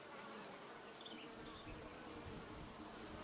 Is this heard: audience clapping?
no